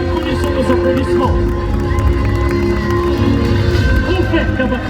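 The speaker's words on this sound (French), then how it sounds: "Synchronisons nos applaudissements." A large audience at a high-diving show claps and cheers in a continuous, loud wash of crowd noise, with voices and shouts mixed throughout.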